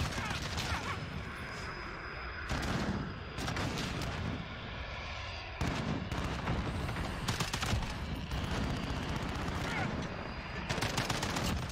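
Gunfire from the video game Warzone comes in loud, dense bursts of rapid shots and heavy blasts, separated by short gaps with a faint voice in the background.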